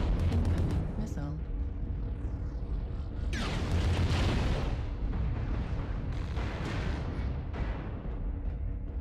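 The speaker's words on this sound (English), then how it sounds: "Warning, incoming missile." Missiles explode in the MechWarrior Online video game, loud booming blasts bursting in clusters near the start and again around the middle, over a constant dense rumble of mech combat.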